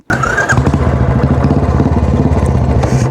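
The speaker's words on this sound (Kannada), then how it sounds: "ಸೌಂಡ್ ನೋಡ್ರಿ ಇದ್ರದ್ದು ಸೌಂಡ್ ಭಾರಿ ಅದ, ಏಕ್ ನಂಬರ್ ಅದ sound. Silencer actually change ಮಾಡ್ಸ್ಯಾನ Nandisha." A Royal Enfield Classic 350 fitted with an aftermarket silencer fires up and settles into a loud, close, evenly pulsing single-cylinder thump.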